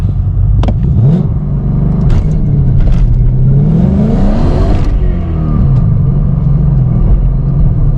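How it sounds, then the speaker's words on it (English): A Ford Mustang S550 launches hard, its engine rising and falling in pitch through several revving surges, loud and close, with sharp bursts suggesting tires breaking loose. "I guess I'll give it a try real quick and see how much wheel spin I get."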